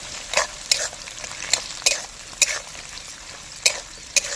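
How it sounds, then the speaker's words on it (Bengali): Capsicum goes into a pan of frying onions for village-style chili chicken and fried rice, with a soft sizzle under a series of sharp, evenly spaced spatula scrapes and clinks. "এই যে ক্যাপসিকামগুলো দিয়ে দিচ্ছি"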